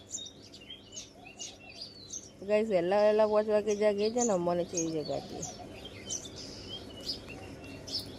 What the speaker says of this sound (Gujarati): ચકલીઓનો અવાજ આવે બારે